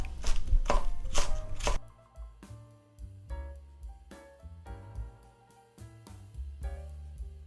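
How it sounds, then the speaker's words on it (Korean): A knife finely shreds cabbage leaves on a cutting board with fast, close, crisp chopping strokes. A dense rapid burst comes first, then spaced rhythmic taps follow, with no voices. "잎은 얇게 채 썰어 주세요. 곱게 채 썰어 주세요."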